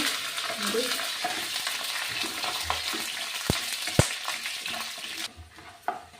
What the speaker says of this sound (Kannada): ನೋಡಿ, ಕಡಲೆ ಬೀಜ ಫ್ರೈ ಆಗಿದೆ.